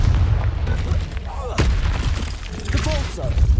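Confringo spell explosion in Hogwarts Legacy during combat, with sharp booming blasts and crackling impacts over a constant low rumble of battle noise, loud and close.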